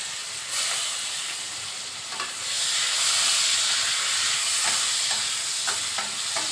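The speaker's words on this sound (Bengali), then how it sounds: "হালকা করে পেঁয়াজটা ভেজে নেব।" Chopped onion and crushed garlic fry in a pan with a loud, continuous sizzling hiss that swells slightly midway, broken by a few faint stirring knocks.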